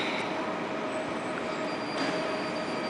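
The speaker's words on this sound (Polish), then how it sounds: "No i jest pociąg do Żywca" A train to Żywiec sits close by at a station with a steady, loud mechanical rumble and a thin high whine running throughout, with no voices heard.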